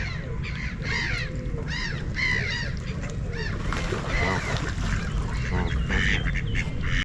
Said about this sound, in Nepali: हाँसको बच्चाहरू हाँसहरू